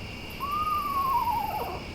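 A screech owl calls at night with a single drawn-out whistled note that rises slightly and then falls. It is clear and fairly close, with nothing else over it but a faint steady background hum.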